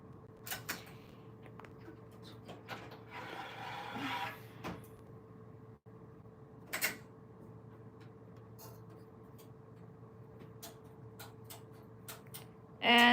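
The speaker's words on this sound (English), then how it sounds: "we are making some beautiful patterns by operating this knitting machine" A Silver Reed knitting machine works a pattern: scattered clacks and ticks, a longer rasping slide of the carriage, and a low steady hum underneath, with a louder clatter at the end.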